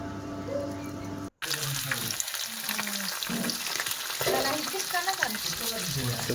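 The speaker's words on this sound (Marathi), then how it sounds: "फ्रायला ठेवलेत" Freshly caught fish fries in a pan with a continuous crackling sizzle. There is a brief dropout early on, and faint background voices and clatter are mixed in.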